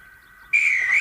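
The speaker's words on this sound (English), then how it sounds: "Be patient and wait for the guard's whistle." A guard's whistle at a train station on a Thomas-themed heritage railway day: after a quiet start, one steady, shrill blast begins halfway through and holds to the end, close and clear.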